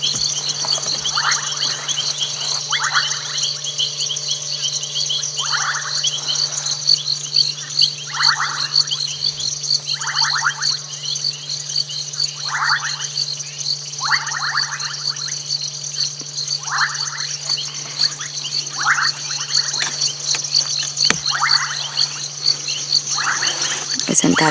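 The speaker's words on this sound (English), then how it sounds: "Isn't that sound just incredible? The frogs. The ones who bubble." Frogs give bubbling calls in regular bursts every couple of seconds, set against a steady, high-pitched chorus of night insects, on safari.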